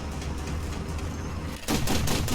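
Dense bursts of gunfire from a tank video game, a rumbling barrage that jumps louder partway through into sharper rapid cracks, with no talking.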